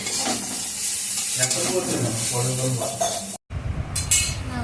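Neem leaves and eggplant frying in a pan, a steady sizzle with stirring and clinks of a utensil against the pan, continuous and close, breaking off briefly near the end before resuming.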